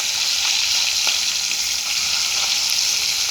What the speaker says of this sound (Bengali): এই যে মাছ ফ্রাই করতেছি।